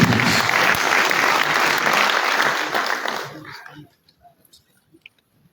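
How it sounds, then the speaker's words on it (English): An audience at a presidential cabinet retreat gives a round of applause for Dr. Luther, dense clapping that fades out after about three and a half seconds into near silence with a few scattered sounds. "Another round of applause for Dr. Luther"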